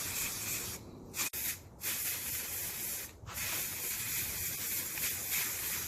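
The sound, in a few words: spray painting table top with Rust-Oleum Satin Espresso paint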